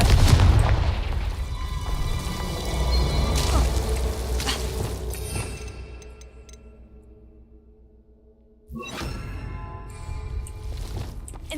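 Confringo spell blast in Hogwarts Legacy, a deep booming explosion with a long rumbling tail that decays into near silence, followed by a second sharp burst of impact noise, loud and with no talk.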